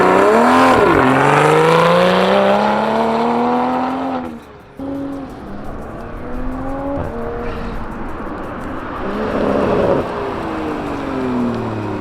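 A Toyota A90 Mark V Supra launches hard outside, its engine rising loudly through rapid climbing revs before a sharp lift-off with turbo flutter, then lower revving and rushing air.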